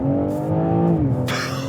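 Tuned BMW M car accelerating hard from about 25 mph, its engine note rising steadily and loudly from inside the cabin before a brief shift-like dip and a burst of rushing noise at the end.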